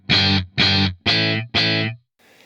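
Electric guitar played through a Fractal AX8 with delay set to a single repeat at 50% mix, four loud distorted strummed chords in a steady rhythm, each ringing briefly before cutting off, then near silence.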